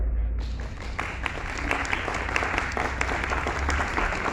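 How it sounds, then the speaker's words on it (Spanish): Warm applause from an audience swells and continues steadily, many hands clapping at once in an indoor space. "Un fuerte aplauso para los tres"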